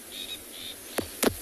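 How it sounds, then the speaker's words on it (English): Faint, thin high chirps followed by two quick sweeping calls, distant birds on a quiet morning in the South African bush. "There's a lot of birds calling this morning."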